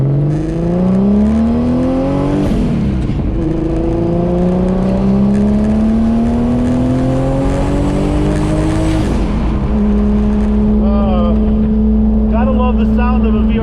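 A big-turbo 12-valve VR6 swapped into a B5 Audi A4 pulls hard, its engine note climbing through the revs, easing off, then rising again in a second long pull, loud and close under a voice.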